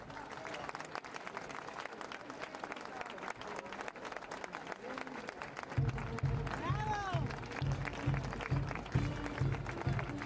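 A crowd applauds at the inauguration of the 2017 Antica Fiera di San Gregorio. The clapping runs throughout, mixed with crowd noise and talk. Partway through, a brass town band starts playing under the applause.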